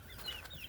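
Chickens clucking in a hot poultry house where many birds are sick from the heat, a short burst of close, overlapping hen calls over a steady background hum.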